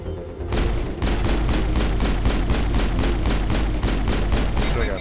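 Gunfire in Mass Effect: a rapid, evenly spaced string of about twenty loud, close shots rings out in steady rhythm over a low rumble.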